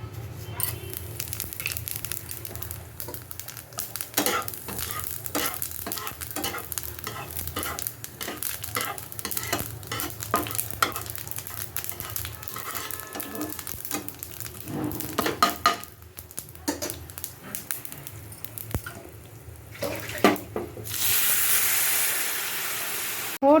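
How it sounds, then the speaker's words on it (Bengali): A pan of bamboo shoot dal is stirred as it sizzles, with a continuous frying hiss under irregular scraping strokes of the spoon, ending in a louder surge of steam. "ও ডালটা এইবার আমি একটু নাড়া দিয়ে নিচ্ছি।"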